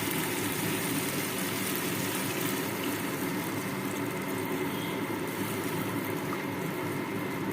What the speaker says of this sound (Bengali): এবার এর মধ্যে জল ঢেলে দেবো।